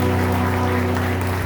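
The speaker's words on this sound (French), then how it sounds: "On doit les applaudir, s'il vous plaît." Church congregation applauding together during the welcome of a new Baptist pastor and his wife at an installation service in Camp-Perrin, a steady dense wash of clapping with a low organ or keyboard drone held underneath.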